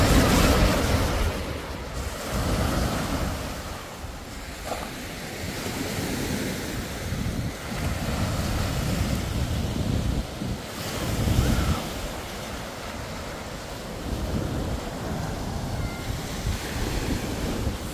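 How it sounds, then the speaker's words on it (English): Waves break continuously on a lake beach at Grimsby, with a loud, steady rush of surf and strong wind buffeting the microphone, and no voices. "And just enjoy the waves."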